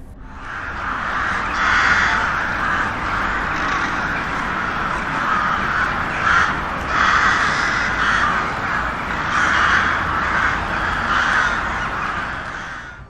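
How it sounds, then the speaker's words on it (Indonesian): A crow caws loudly and repeatedly in harsh, rasping bursts, with faint road traffic underneath. "itu selalu ditandai dengan suara burung ini"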